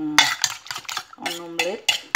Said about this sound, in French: là, je bats les œufs